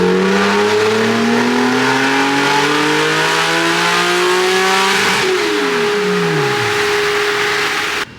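A Nissan Skyline GT-R engine pulls hard on a dyno, its pitch climbing steadily through the revs, then dropping sharply at the top and winding down. The engine is loud and close, with no talk over it.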